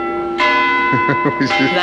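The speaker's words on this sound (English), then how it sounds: "that is the chapel bell." Eton College chapel bell ringing, a bright sustained metallic tone with lingering overtones, a few short knocking sounds over it.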